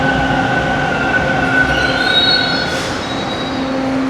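Toronto TTC Line 2 westbound subway train rolling through a station, wheels squealing in long sustained high-pitched tones over a loud continuous rumble.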